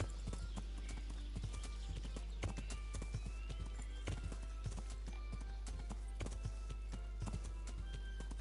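Horse hooves clip-clop at a steady trot in the medieval game Kingdom Come, close and fairly quiet, with occasional faint snorts over a constant low hum and no talking.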